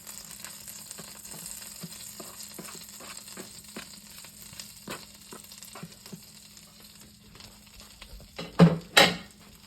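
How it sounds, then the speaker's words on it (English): Garlic sizzling in warmed butter in a pan, a steady soft crackle with scattered pops, ending in two louder clanks of a utensil or pan. "Our butter is warmed up. We're going to take our garlic and put it in there."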